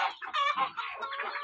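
Country gavran hens from a 140-day-old batch of the same age cluck in a busy overlapping chatter of short calls, close and moderately loud, with no people talking.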